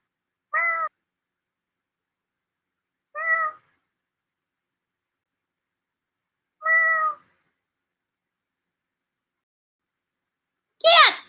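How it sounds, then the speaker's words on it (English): A cat meows three times at spaced intervals, each call short and clear against silence, followed by a final higher, rising cry at the end. "Oh, look, another cat."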